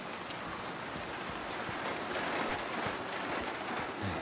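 Steady heavy rain in the Silent Hill 2 Remake video game, a dense continuous hiss of falling water with scattered drop patter, even and unbroken throughout with no voices.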